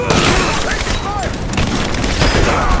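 Dense bursts of gunfire in Rise of the Tomb Raider, loud and close, with overlapping shots and booms filling the whole stretch while soldiers shout in the background.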